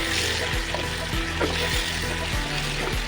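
Okra and potatoes sizzle and crackle steadily in hot oil, a constant frying hiss with faint clinks of a utensil stirring now and then.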